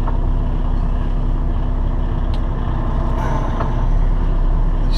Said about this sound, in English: Charge enough to release the brakes.